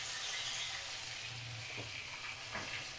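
Ginger garlic paste sizzles steadily in a pan over medium flame, a close, continuous frying hiss with soft scraping sounds as it is stirred.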